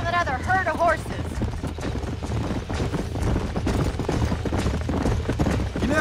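Horse hooves clip-clopping steadily in Red Dead Redemption, a continuous rhythmic trot heard under game music and ambience, with a brief whinny-like tonal sound early on.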